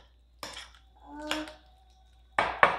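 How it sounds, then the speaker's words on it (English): Eggs, feta cheese and yogurt are being mixed in a bowl, with a few separate utensil scrapes and clinks against the dish, spaced out and close, with quiet pauses between them. "And we're going to keep mixing the eggs, the cheese, and the yogurt."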